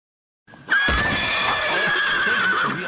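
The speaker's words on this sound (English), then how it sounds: "Where the hell is that horse?" A horse gives one loud, close whinny that rises sharply and then holds a long, shrill, quavering neigh for about two seconds.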